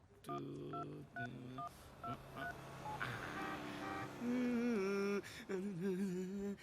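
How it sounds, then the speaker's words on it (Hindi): A quick run of touch-tone dialing beeps, short paired tones in steady succession, followed by a ringing tone through a phone line. "अभी फोन लगाता हूँ उसको, देख।"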